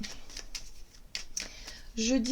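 Oracle cards are shuffled for a card reading: a few quick, soft riffling and snapping bursts come close and fairly faint, then a voice starts to speak at the end.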